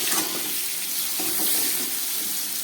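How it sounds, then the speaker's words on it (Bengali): Pieces of potol and potato fry in oil with salt and turmeric, giving a dense, steady sizzling hiss close by that stays even throughout, with no speech. "নুন হলুদ দিয়ে আরেকটু ভেজে নিচ্ছি"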